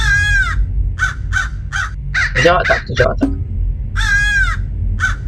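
Raven caws from the video game Hello Neighbor, harsh repeated calls opening and closing the moment, with a voice talking and game noise in between over a steady low hum.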